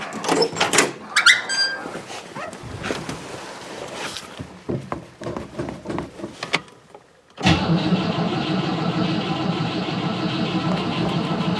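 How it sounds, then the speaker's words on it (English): A 1960 Cadillac engine cranking with clicks and starter churning in uneven bursts, then catching at once into a loud, steady idle that runs on close by. "we've got the 1960 Cadillac. Let's fire it up."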